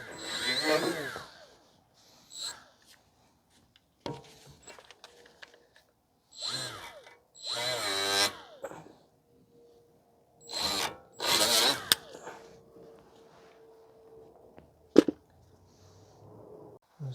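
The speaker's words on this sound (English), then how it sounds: "if you guys don't have a die grinder like this of some sort, you can just use a cheap wire brush to clean the rust off" Die grinder scrubbing rust off a rear brake bracket on a 2016 Ford F-150 3.5, heard in several loud, close bursts of a few seconds each, with quiet gaps between them and a sharp knock near the end.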